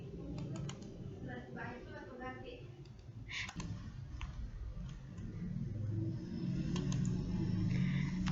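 Computer mouse clicks while working in software on a PC, a few sharp isolated clicks under steady instructional talk.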